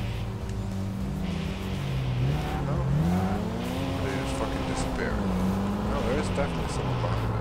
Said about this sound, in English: We've got a car coming up behind us